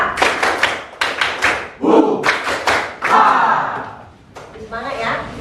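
Schoolchildren in a classroom perform a rhythmic clapping chant with their teacher, sharp bursts of group claps alternating with loud shouted calls, the whole class close and energetic.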